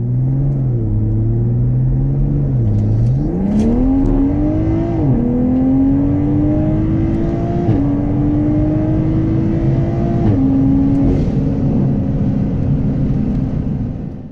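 A Toyota A90 Supra with a B58 engine revs and pulls hard through the gears from 30 to 90 mph, pitch climbing steadily with brief dips at each shift, loud and close throughout.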